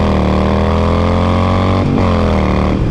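A motorcycle engine holds a loud, steady revving drone at about 3,000 RPM, heard up close and filling the whole clip, with a brief dip in pitch partway through.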